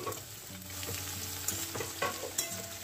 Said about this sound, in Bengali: এবার তেলের মধ্যে এটাকে ভালো করে নাড়াচাড়া করতে থাকছি।